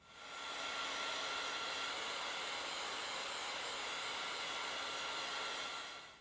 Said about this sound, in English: now I'm going to use the heat gun on this to try to help it dry a little bit faster.